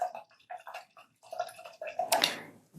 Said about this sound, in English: Now I will rinse my brush out.